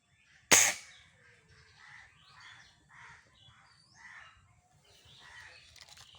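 A single sharp shot fired at a green target on an outdoor shooting range cracks loud and close, followed by quiet outdoor ambience with faint bird calls.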